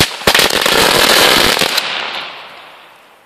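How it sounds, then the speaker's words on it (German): A small firecracker mat goes off in a loud, rapid burst of dense crackling bangs that lasts about a second and a half, then fades into a trailing hiss with no voices. "hier mal eine kleine Knallmatte zum Testen, wie das funktioniert"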